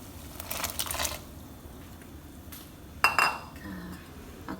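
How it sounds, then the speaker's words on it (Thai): Metal utensils clink against a pot of boiling water as ginger is added for a Thai ginger drink, with a short burst of clatter early on and a sharper, louder clink near the end. "ค่ะตอนนี้หม้อเดือดแล้วเนาะค่ะ เราก็จะนำขิงลงไปค่ะ"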